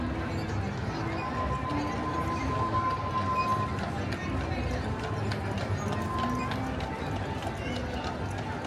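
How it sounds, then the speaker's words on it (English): A horse pulls a horse-drawn streetcar into a station on Town Square at Disneyland, hooves clip-clopping steadily under a busy crowd hubbub and nearby chatter. "Watch a horse-drawn streetcar come into the station."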